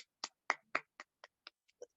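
A short burst of about eight crisp, evenly spaced hand claps sounds close by against near silence during a teaching session, each clap sharp and separate before they trail off.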